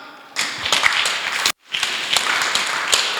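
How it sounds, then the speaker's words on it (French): Audience applause filling a hall at a church gathering, dense and steady, briefly cutting out for a moment before resuming at full strength. "On acclame."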